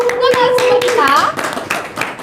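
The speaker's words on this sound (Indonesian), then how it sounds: "Boleh tepuk tangannya semuanya untuk kedua narasumber kita" An audience claps for two guest speakers at a talk event, sparse hand claps scattered over several seconds while a voice speaks above them, close and fairly loud.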